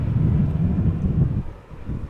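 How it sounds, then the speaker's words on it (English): KLM Boeing 737 in SkyTeam livery arriving at Amsterdam Schiphol Airport, a steady low rumbling roar with wind buffeting the microphone, dipping briefly before swelling again. "KLM 737 in the SkyTeam livery"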